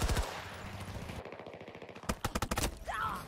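Rapid automatic gunfire in Battlefield 2042 from a PBX-45 loadout match, a dense run of sharp shots followed by a broken burst of separate loud reports, with no talk over it.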